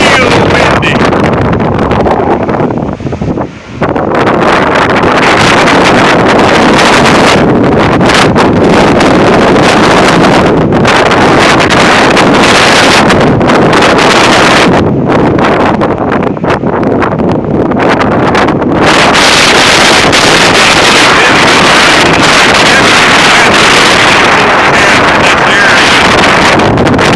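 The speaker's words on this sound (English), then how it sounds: "a dry line came through and it got real windy." Strong gusting windstorm in Oklahoma after a dry line, with gusts of 40 to 60 mph roaring continuously across the microphone, loud and buffeting throughout with one brief lull near the start.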